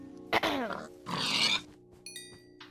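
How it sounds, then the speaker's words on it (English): Minecraft pig grunting in two close, fairly loud bursts, followed by fainter high chiming game sounds, with no talking. "that pig decided to give me nothing"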